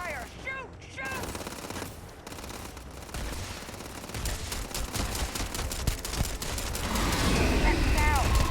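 Rapid bursts of gunfire from the video game Starfield crackle almost nonstop against Terramorph creatures and raiders, overlapping shots building toward a heavier barrage at the end, with game voices and electronic chirps mixed in.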